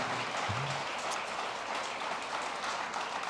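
Church congregation clapping at a Spanish-language worship service, a dense, sustained wash of applause that fills the whole space at even loudness, with a brief low vocal sound near the start.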